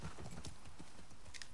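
Horse hooves clip-clop in a quick, uneven trot in The Last of Us Part II, close and fairly loud, with an occasional snort over the steady game ambience.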